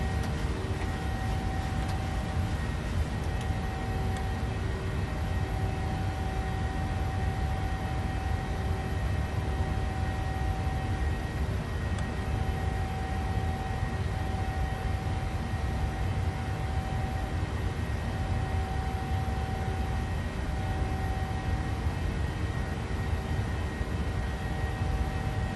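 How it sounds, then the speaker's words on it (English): Steady droning whine and rumble of the PMDG 737 jet engines in Microsoft Flight Simulator, a continuous even hum with sustained tonal lines running for the whole stretch, no talking. "Sounds like the real airplane? Yes, it does. PMDG has always had fantastic sounds."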